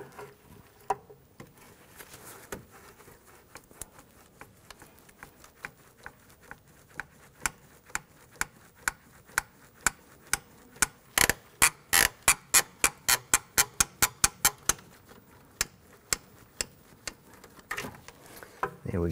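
Hose pliers twist and pivot an ABS wheel speed sensor out of the rear knuckle of a Buick Enclave: scattered creaks at first, then a rapid, regular run of sharp ratcheting clicks close by.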